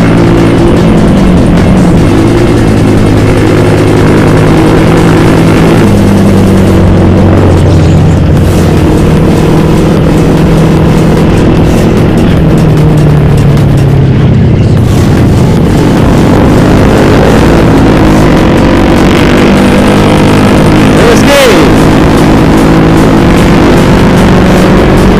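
Yamaha R25 motorcycle on a Sunday morning group ride near Purbalingga, engine revving and accelerating hard through repeated gear changes, loud and close with heavy wind rush throughout.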